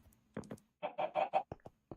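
Minecraft chickens give a quick run of short clucking calls, several bursts spaced unevenly across two seconds, fairly close and alone with no talk.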